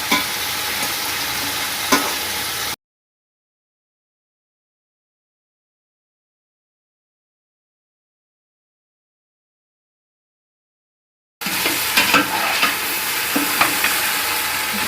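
Beef frying in masala in a pot for yakhni pulao, heard as a continuous sizzle with a few stirring scrapes. The sound stops dead in a long silent gap, then returns.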